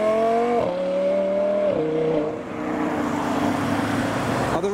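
A purple Audi R8 sports car with luminous green wheels pulls away from a roundabout at a business park, its loud engine rising through the gears in stepped surges before fading, with steady roadway noise behind it.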